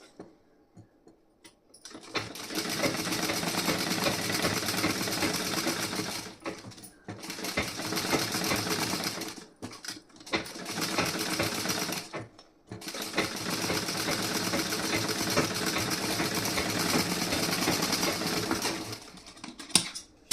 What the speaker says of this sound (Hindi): यहाँ पे मैं एक सिलाई लगा दूंगी, यहाँ पे कच्ची सिलाई।